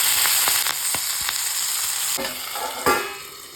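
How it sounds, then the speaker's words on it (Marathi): Hot oil poured over garlic in a pan for a spicy chili thecha, setting off a loud, steady sizzle with a few sharp crackles and a burst near the end, close and with no voices. "तर लसूण पण टाकून घ्यायचा आणि लगेच तेल टाकायचं आणि झाकण ठेवायचं त्याच्यावर"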